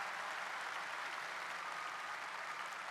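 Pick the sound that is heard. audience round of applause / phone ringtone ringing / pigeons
audience round of applause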